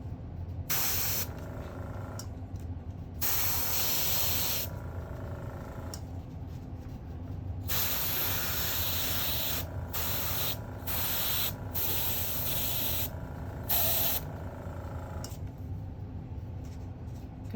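Airbrush spraying paint onto a shark design on an arm, a series of loud, close hissing bursts of varying length separated by short quiet gaps, with a faint low background hum and no talking.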